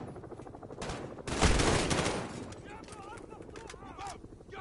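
Gunfire from the video game Modern Warfare: a burst of rapid shots rises into a dense, loud volley, then fades into scattered shots and game effects, with voices audible around it.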